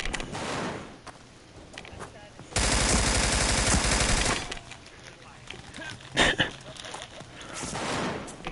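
Rapid video-game gunfire in a sniping shooter, with a sustained loud burst of automatic fire in the middle and scattered sharper shots before and after, over a busy background where a voice talks.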